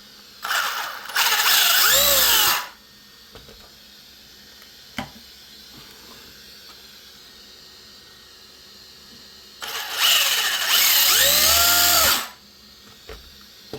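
Motor and gear mesh of a 1/16 scale ZD Racing RC car, two loud whirring bursts a couple of seconds each, rising and falling in pitch, separated by quieter background noise and scattered clicks.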